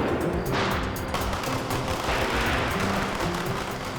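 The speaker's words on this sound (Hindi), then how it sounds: "पटाखे जलाते हैं" Diwali firecrackers burst in a dense, irregular string of sharp cracks and pops, fairly loud and continuous, with a few stronger bangs standing out.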